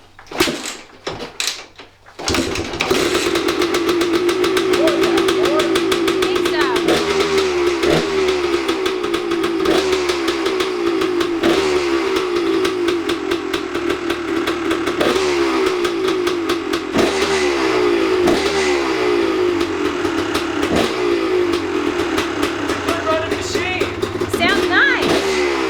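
A 2001 Gas Gas two-stroke dirt bike kicked over and firing into a steady running idle, a loud, close, rapid buzzing putter with brief throttle blips, a few short scrapes and talk before it starts.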